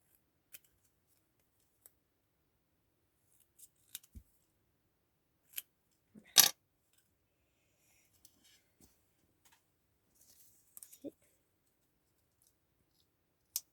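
Scissors cutting paper while making a handmade card: sparse, close snips and clicks spread through a quiet room, with one louder cluster of cuts partway through and no talking.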